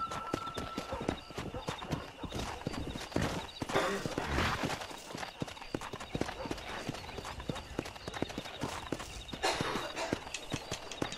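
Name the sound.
horse hooves clip-clopping while riding, from the video game Red Dead Redemption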